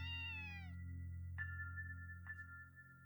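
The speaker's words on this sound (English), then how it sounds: "We got a cat now." A cat meows in the video game Trails from Zero, one long falling meow followed by two shorter chirping mews, clear and close over a steady low hum of game music.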